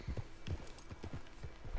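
Horse hooves in the video game Red Dead Online, a steady clip-clop of walking hoofbeats in an even rhythm, fairly soft and heard alone.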